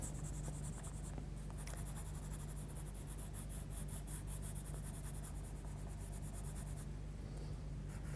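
Coloured pencil scratching steadily across black sketch paper, a soft continuous scribbling rub with quick back-and-forth strokes, close and fairly quiet over a low steady hum, with no voices.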